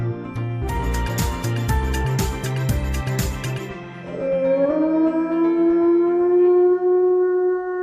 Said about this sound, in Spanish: el aullido del lobo es uno de los sonidos más impresionantes que ha producido criatura viviente alguna